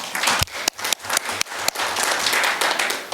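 Audience at a suicide prevention seminar applauds frontline COVID-19 medical staff: dense, sustained clapping from a full hall, loud and steady throughout with a few sharper individual claps standing out.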